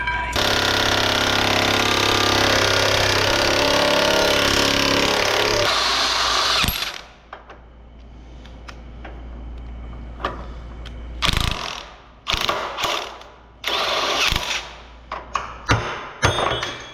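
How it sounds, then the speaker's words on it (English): A hand tool, likely a ratchet wrench, works on a truck being repaired, one that came with a plow: loud continuous mechanical whirring for several seconds, then a quieter stretch broken by sharp bursts of clicking and clanking, close by with no talk. "Need a wrench for that one."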